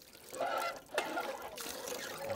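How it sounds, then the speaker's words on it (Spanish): Water pouring and trickling from an old well beside a cycling path, a steady continuous splashing flow heard close with no voices over it. "Miren cómo sacan el agua."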